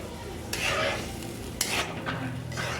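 Potatoes being stirred in a pan for garlic potatoes, with soft scraping bursts of a spoon against the pan over a low sizzle, two or three strokes up close and no talking.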